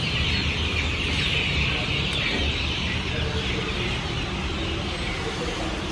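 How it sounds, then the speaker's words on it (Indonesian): Free-range village chicks and KUB chickens cluck steadily amid a dense, continuous farmyard din, with a constant background hum and no pauses throughout. "kita lihat di kamar pertama ada ayam, anak-anak ayam kampung"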